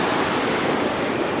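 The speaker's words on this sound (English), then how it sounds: "It's a decent river." A river on the Pacific Crest Trail near Lake Chelan rushes by in a steady, broadband roar of flowing water, loud and continuous for the whole short moment with no voices.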